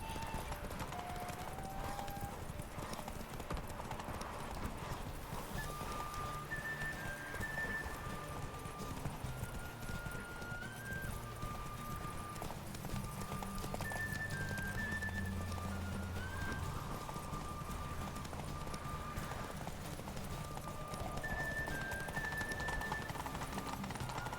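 Roach the horse trotting in The Witcher game, a steady clip-clop of hooves with an occasional whinny, under in-game music and a speaking voice.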